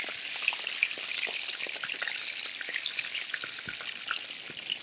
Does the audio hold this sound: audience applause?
no